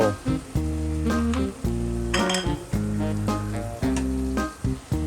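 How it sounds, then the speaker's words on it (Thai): Holy basil, shrimp and squid stir-fried in a pan, with a loud continuous sizzle and rhythmic clinks and scrapes of a utensil against the pan under a steady tonal hum. "คนกะเพราให้เข้ากันครับกับกุ้งกับปลาหมึกนี่ครับ"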